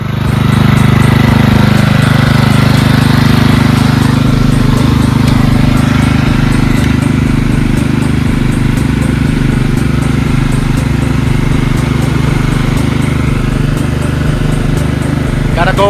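A small engine idles steadily and loud throughout after a carburetor fuel shutoff repair, with a constant low drone and faint ticking under occasional wind noise.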